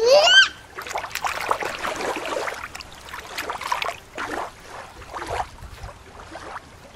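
A toy manta ray dropped back into water outdoors, making a series of splashes and sloshing bursts, fairly close and moderately loud, with a brief high toy-like tone at the start and faint voices in the background.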